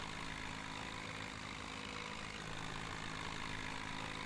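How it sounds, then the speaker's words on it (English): A small 45-horsepower tractor engine idling in Farming Simulator 17, a steady, even drone with no change in pitch, heard alone and at moderate level. "I think it's about 45 horsepower, something like that. Just right for little jobs like this."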